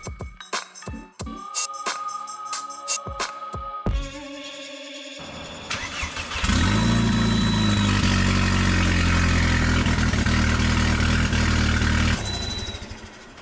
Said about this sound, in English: The car started much better once the O2 sensor wire was plugged in.